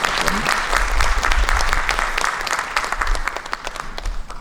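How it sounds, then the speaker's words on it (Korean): Warm audience applause welcoming a guest pastor at a Korean church mission presentation in New York, steady dense clapping from a seated crowd throughout, close and fairly loud. "모실 때 우리 따뜻한 박수로 맞이해 주시기 바랍니다"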